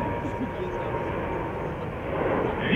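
Airplane engine roaring steadily at the MAKS air show, a broad continuous drone that swells slightly toward the end, with voices mixed underneath.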